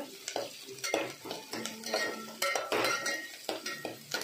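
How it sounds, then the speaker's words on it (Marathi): Masala roasts in a pan while a spoon scrapes and stirs it in quick, rhythmic strokes, each pass giving a close metallic scrape over a light sizzle. "आता मसाला भाजून घ्यायचा लाल होईपर्यंत"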